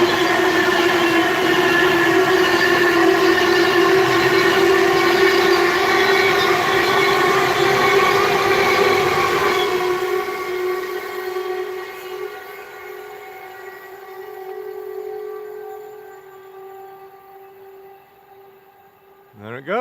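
A train passes on the West Coast Main Line north of Crewe, coming up from the south with a loud, tonal rumble and hum that holds for about ten seconds, then fades steadily into distant quiet.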